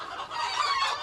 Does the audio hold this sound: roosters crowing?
yes